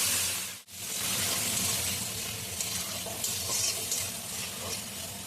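Shrimp coated in salt and turmeric and pieces of elephant foot yam sizzle and hiss in a hot pan, a dense steady frying noise with a brief dip early on, close and without talk.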